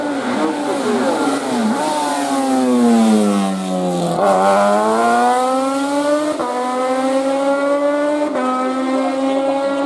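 A Norma prototype race car climbing the Turckheim–Trois-Épis hill climb course, its engine screaming loud and close, pitch rising through each gear then dropping on quick upshifts, sustained high-revving howl throughout.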